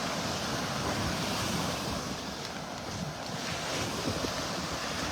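Surf rolls steadily onto a beach in North Naples, Florida on a rainy morning, with wind buffeting the microphone in a continuous, broad wash of waves and gusts and no voices.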